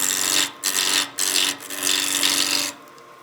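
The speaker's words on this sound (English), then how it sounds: "The nice thing about that spindle rough and gouge is it removes a lot of material really quickly." A spindle roughing gouge cuts a spinning wood blank on a lathe while a Christmas gnome is turned, giving a loud, steady rasping shear broken by a few brief lifts of the tool, close and alone.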